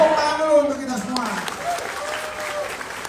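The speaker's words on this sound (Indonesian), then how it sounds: "Tepuk tangan dulu untuk kita semua." Audience applause at a political town-hall style event in Pontianak, steady clapping throughout with an emcee's voice talking over it.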